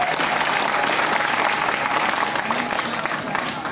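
At a Ramlila stage event, a large audience keeps up sustained applause, a thick, even roar of clapping from many people throughout, with faint crowd noise mixed in.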